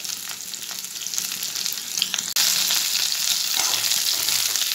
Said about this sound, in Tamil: பாவக்காவை ஆட் பண்ணி நல்ல கலர் சேஞ்ச் ஆற வரைக்கும் ஃப்ரை